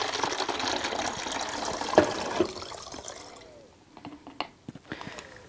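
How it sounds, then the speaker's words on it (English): Water poured into a plastic bottle, a rushing gush that narrows to trickles and then stops, followed by a few light knocks and drips, close up with no talking. "let's start by filling one of the bottles with water"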